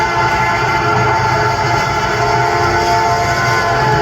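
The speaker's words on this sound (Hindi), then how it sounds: "यहाँ चलने वाली टॉय ट्रेन में बैठकर एक बार इस उद्यान का चक्कर लगाइए।" Toy train running around the grounds of Lucknow Zoo, a steady rumbling, clattering ride that stays loud and continuous throughout with no voices over it.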